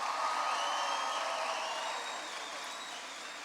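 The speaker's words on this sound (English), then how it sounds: "give Jeannie a big round of applause for their introduction" Crowd applause with faint cheers and whoops at a President Obama appearance at the University of Vermont, a broad wash of clapping that gradually fades.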